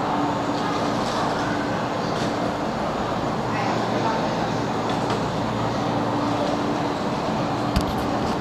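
Train ride near Lo Wu on the Hong Kong border line, a steady loud rumble of a moving railcar throughout with constant low drone and occasional rattles, no clear voices.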